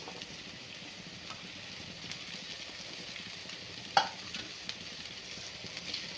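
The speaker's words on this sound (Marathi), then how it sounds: "भाज्या चांगल्या आपल्याला अशा परतून घ्यायच्या आहेत." Chopped capsicum and green beans stir-frying in a pan for vegetable hakka noodles, giving a soft, steady low sizzle with faint stirring and one sharp utensil tap partway through.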